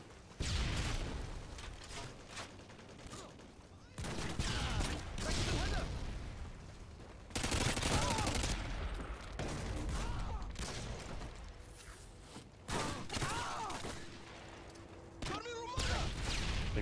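Gunfire and sniping in an online shooter game, bursts of shots and booming impacts in uneven clusters, with players talking over much of it.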